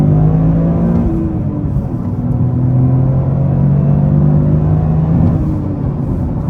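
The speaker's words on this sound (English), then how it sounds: "we can start one off in first gear, lean into it on the gas" A 2024 Toyota GR Corolla pulling hard in first gear, a loud in-cabin engine drone that climbs steadily in pitch over several seconds, then eases slightly and rises again, no speech.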